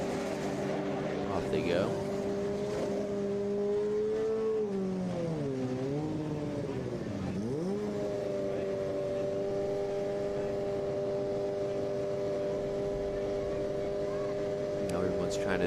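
Formula SAE race car on an autocross course at a dynamic event, engine buzzing steadily, then dipping and rising as it shifts and works through corners before holding a high drone; a commentator talks over it.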